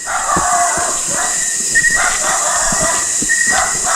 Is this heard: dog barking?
yes